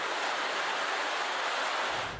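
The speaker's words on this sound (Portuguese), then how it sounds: "Na comunidade da Rocinha, a água desceu com força pela escadaria." Flood water rushing with force down a staircase in the Rocinha community of Rio de Janeiro, a loud, steady broadband roar of torrential flow with no voices.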